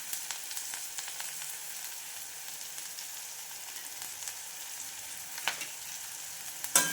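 Garlic and cumin sizzle steadily in hot oil over medium heat, a soft continuous crackle with occasional spoon clinks near the end.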